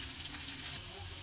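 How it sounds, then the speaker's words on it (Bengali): Rohu fish head frying in hot oil, a steady, soft hiss of sizzling heard close and continuous without pause. "তোমার লাল লাল করে ভাজা হয়ে গেছে।"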